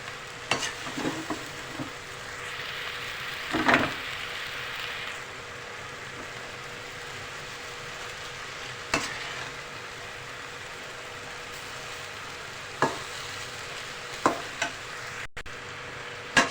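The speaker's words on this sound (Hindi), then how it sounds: "बंद गोभी और गाजर को हम बहुत अच्छे से मिक्स करेंगे कि तमाम मसाला जो है इसके ऊपर आ जाए" Shredded cabbage and carrot being stirred with masala in a pan, a soft continuous sizzle broken by occasional scraping strokes of the spoon, quiet and close with no talking.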